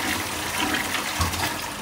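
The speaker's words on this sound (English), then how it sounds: "the flush should be as simple as just tapping the button" A Seima toilet flushes after its button is tapped, with a steady rushing gush of water filling the whole clip, close and loud.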